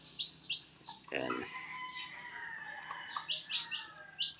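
Newly hatched chicks peep in quick, high, thin chirps, close by and fairly soft. The peeping comes in short repeated bursts, with a brief lower grunting sound partway through.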